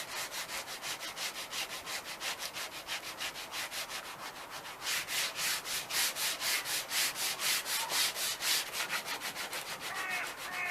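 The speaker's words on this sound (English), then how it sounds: "So I'm going to keep sanding it, get all the paint off." Hand sanding of old paint on a wooden window frame, a steady back-and-forth scraping rhythm of rapid strokes, close and fairly quiet, growing stronger partway through.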